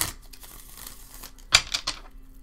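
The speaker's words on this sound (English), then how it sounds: "I want to get a good shuffle on the cards" Tarot cards being shuffled, with soft riffling and rustling throughout and a few sharper crisp bursts of card slaps near the end, close and fairly quiet.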